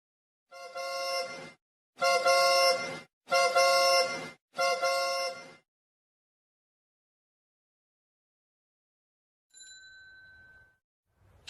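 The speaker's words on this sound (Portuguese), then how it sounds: "nós temos a buzina do automóvel, seria um som grave, e a sinetinha da bicicleta" Four loud, sustained car horn honks sound in a row, then after a pause a bicycle bell rings once, bright and high, followed by silence.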